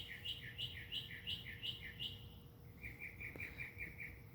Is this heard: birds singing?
yes